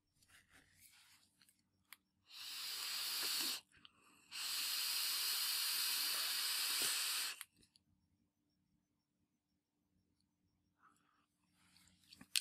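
Kangertech Protank V4 vape tank fired at 35 watts with the airflow fully open, giving two loud, steady hissing draws of about one and three seconds, separated by a short pause and surrounded by quieter handling noise.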